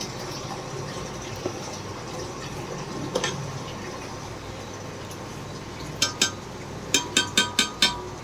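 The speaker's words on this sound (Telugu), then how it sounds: "ఇలా మరిగిన వాటర్లోనే రైస్ అనేది వేసుకుందాం." Washed basmati rice goes into boiling water in a pot, with a steady bubbling hiss and a brief pouring rush, then a quick run of sharp clicks near the end.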